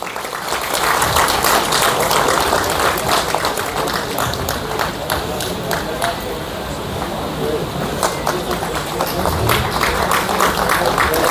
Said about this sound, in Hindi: पुनः फिर तालियां